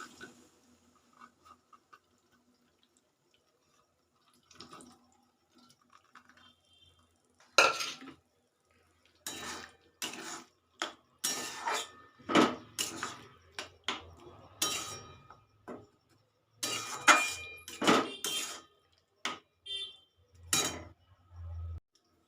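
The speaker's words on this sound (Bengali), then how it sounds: "সিদ্ধ করে রাখা মটরশুঁটিটা দিয়ে দিচ্ছি" Boiled peas added to oil in a pan for matar paneer, followed by repeated spoon-on-pan clanks and stirring scrapes in irregular bursts after a quiet start, with faint sizzling underneath.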